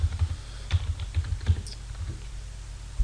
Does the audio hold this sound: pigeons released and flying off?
no